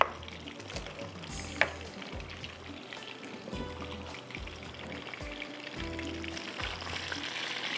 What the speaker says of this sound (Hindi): बस फ्राई हो अच्छी तरह से